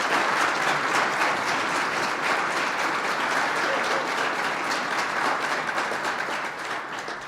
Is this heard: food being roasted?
no